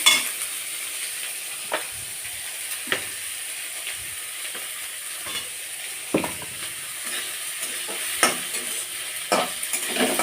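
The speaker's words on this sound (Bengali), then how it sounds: "মাংসটা খাসি মাংসটা ভালো করে মিরিমিট করে রেখেছি সেটা দিয়ে দেবো আগে লাল লাল করে ভেজে নেবো" Onion and minced goat meat fry in a pan with a steady, bright sizzle. Scraping stirs and clinks from a spoon break in at intervals. No voices are heard.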